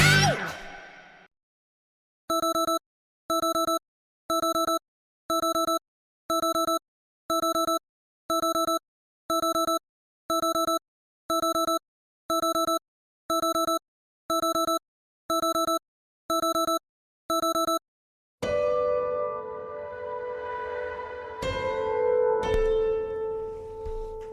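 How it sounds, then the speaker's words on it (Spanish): An alarm clock rings in a steady series of identical electronic double-beep bursts, evenly spaced and loud, about fifteen in a row before stopping, with a brief burst of noise before and rustling after. "Esto que habéis oído es el sonido de un despertador."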